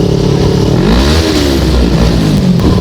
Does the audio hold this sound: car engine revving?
yes